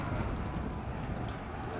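Cavalry horses galloping in a Total War Saga: Thrones of Britannia battle, a dense rumble of hooves under a continuous loud battlefield roar.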